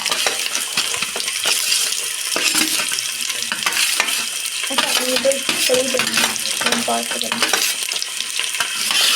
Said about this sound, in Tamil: Next add chopped onion.